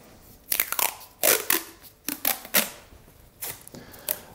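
Tape is pulled and pressed onto watercolor paper, giving a series of short, crackly, sticky bursts at an irregular pace, close by and fairly quiet, with pauses between them.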